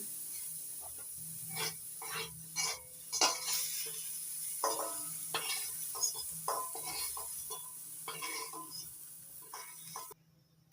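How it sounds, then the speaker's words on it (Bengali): Hot mustard oil sizzles steadily while a utensil clinks and scrapes against a pan in short bursts, close by, as fried water lily stems and shrimp are lifted out. "ভেজে নিয়েছি এবার তুলে নিচ্ছি"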